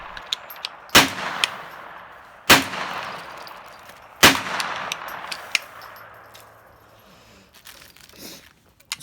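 Three loud gunshots from a Falkor AR-platform rifle chambered in .300 Win Mag, fired with Hornady reloads at an outdoor range in freezing weather. The sharp reports come roughly 1.5 to 2 seconds apart, each ringing out, with small clicks between them.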